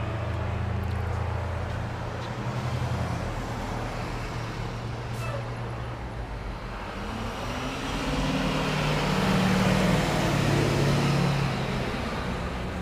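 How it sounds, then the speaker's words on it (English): A very loud truck passes below a plane-spotting vantage point at Grand Cayman airport, its engine a steady heavy rumble that swells and stays close throughout, with no voices over it. "Very loud truck just passing by underneath us."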